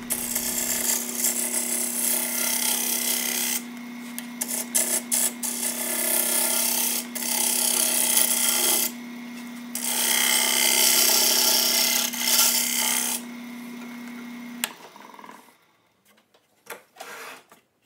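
A reclaimed wood platter bowl spinning on a woodturning lathe, its outside being finished with the tailstock removed: a steady motor hum under loud, continuous scraping and rasping that pauses briefly a few times, then winds down and stops near the end.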